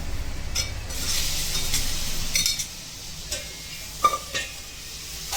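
Tomato dropped into a pan of frying curry, with a steady sizzle and a few stirring and utensil clinks against the pan.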